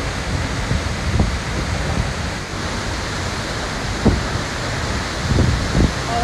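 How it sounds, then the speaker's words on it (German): Rough ocean waves and wind heard from a boat on a world trip: a constant loud broadband roar of wind and surf with a few soft thumps and splashes scattered through. "Das sieht aber heftig aus mit den Wellen."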